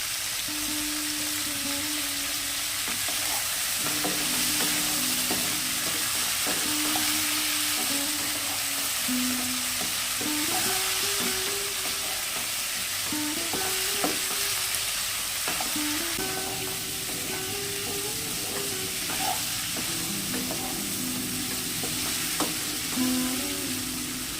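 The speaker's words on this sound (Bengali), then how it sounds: "টমেটো খুব ভালোভাবে কষে নিয়েছি" Tomatoes and green chilies sizzle steadily in a pan for a fish curry, with a constant frying hiss and intermittent scraping strokes of a spatula stirring throughout, close and fairly loud with no talking.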